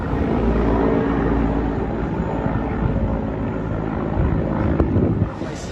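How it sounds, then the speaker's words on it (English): Helicopter taking off from Dhaka, a loud, continuous rotor and engine roar with a dense low rumble that holds steady throughout and fades slightly at the end. "Hasina was seen taking off in a helicopter from Dhaka."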